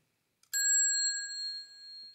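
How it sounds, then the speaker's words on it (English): A single sharp metallic strike on the bell of an old rotary telephone, leaving a clear ringing tone that decays slowly over about a second and a half, alone and close. "You can see the bell."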